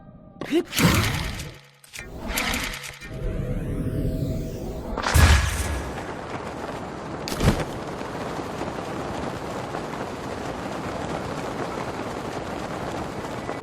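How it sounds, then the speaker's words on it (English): Remote Bomb rune detonations in Zelda: Breath of the Wild, several sharp blasts and bursts with scattering debris, followed by a long, lingering rumble of ambient noise. "the explosion launches small objects and enemies a respectable distance"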